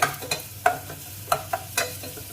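A mung bean dish with pork leg is stirred in a hot pan, with about six distinct scraping strokes of the utensil over a soft, steady sizzle, close and clear with no talking.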